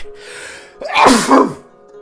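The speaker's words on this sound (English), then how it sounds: "I sneeze like a bastard" A single loud, close sneeze bursts out with a sharp inhale and explosive release, standing alone against a quiet background.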